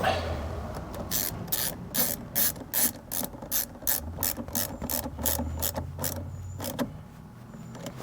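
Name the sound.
ratchet tightening Mercedes ML350 auxiliary battery terminal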